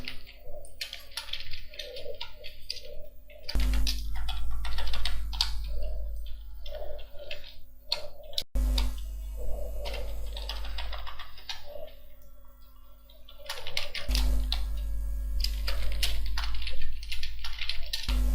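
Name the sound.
typing data on a computer keyboard into Excel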